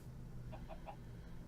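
Minecraft chickens give three quick clucks in a row, soft and short, over a low steady background hum.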